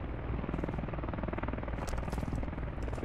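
Enemy helicopter in a video game, a steady dense rotor thump with a broad whine, loud and continuous throughout without pause.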